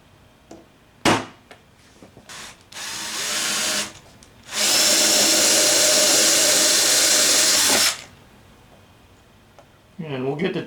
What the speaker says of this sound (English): We have all 8 holes drilled.